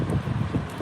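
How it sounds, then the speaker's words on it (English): Gusts of wind batter an outdoor microphone, a short burst of low, uneven rumbling buffet with no other clear sound. "It's windy."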